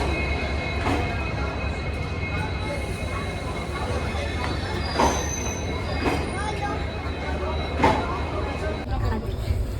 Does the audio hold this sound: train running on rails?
yes